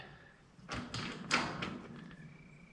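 An RV entry door with new seals and handles is pushed shut, giving a few soft thuds and a latch click, close and moderately loud, followed by quiet room tone.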